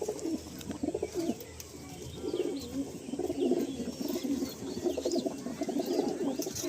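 Teddy pigeons coo continuously inside a full loft, a dense layer of soft, overlapping throaty calls that rise and fall steadily with faint chirps mixed in.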